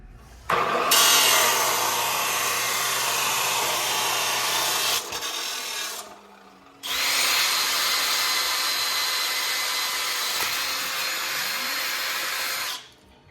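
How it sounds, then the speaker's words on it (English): A power tool cuts angle iron during a shifter repair on a 1952 GMC, making two long, loud, steady grinding runs of several seconds each, separated by a brief pause. "So I took some angle iron, ooh, that's hot, and cut a little sliver off, drilled 2/4 inch holes in there."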